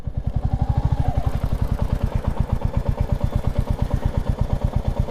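A motorcycle climbing uphill on a rough, broken road, its engine chugging in a steady, rapid stream of close, loud firing pulses that holds an even rhythm throughout.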